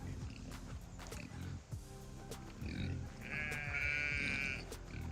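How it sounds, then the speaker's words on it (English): A mother pig with piglets in a farm pen gives off soft grunts and squeals up close, with a higher-pitched bleat-like squeal standing out near the end over low rustling. "Go check on the piggies."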